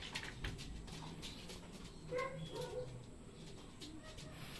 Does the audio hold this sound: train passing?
no